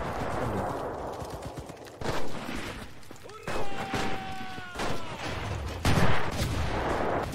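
Turret and small-arms gunfire in the World War II shooter Enlisted, with loud bursts of rapid shots and blasts at intervals under excited talk, plus a brief whistling sound mid-clip.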